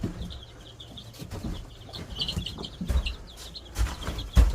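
Young chicks, a freshly hatched brood of eighteen, peep and cluck softly nearby in a series of faint, high, scattered chirps over low background rumble and occasional thumps.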